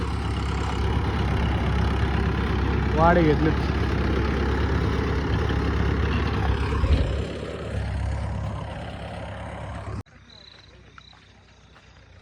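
A low, rumbling tractor engine runs steadily under a man's speech, then cuts to a quieter, thinner background near the end.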